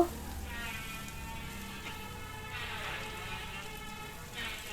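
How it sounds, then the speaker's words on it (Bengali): Chopped tomatoes stir-fry with fish and mushroom in a pan, giving a steady, even sizzle like light rain that continues throughout at moderate loudness. "দিয়ে কিছুক্ষণ নেড়ে চেড়ে ভেজে নেব"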